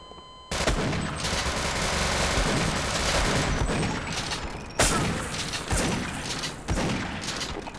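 Dense, sustained gunfire fills Half-Life: Uplink played in the Sven Co-op mod, a loud continuous barrage with sharper bursts punching through near the end, and no talk over it.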